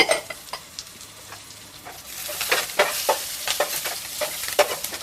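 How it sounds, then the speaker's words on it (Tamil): Shallots and curry leaves tempering in hot coconut oil: a continuous crackling sizzle with a busy scatter of spatters and stirring clicks that grows louder partway through. "இப்போ நம்ம தாளிப்பு போட்டுருக்கேன். சின்ன வெங்காயம் கலந்து போட்டுருக்கேன்."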